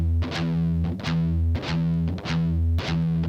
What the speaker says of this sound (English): Play the pedal tones in a quick E5 3 times